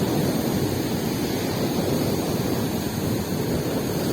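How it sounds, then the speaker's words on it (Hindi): Sea waves wash in as a steady broadband roar of surf, continuous and fairly distant, with wind noise mixed in and no voices. "सागर की लहरों को पार करके निकलना"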